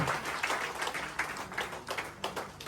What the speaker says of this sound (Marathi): आपण थोडा टाळ्या वाजवा, त्यांचा उत्साह वाढेल